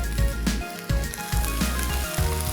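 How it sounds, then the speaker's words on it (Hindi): Chicken sizzles steadily in a hot pan after a splash of water is added, a loud continuous frying hiss with bubbling crackle throughout, no one speaking. "अब इसी तरीके से इसको और मज़ीद सॉटे करने रख देंगे"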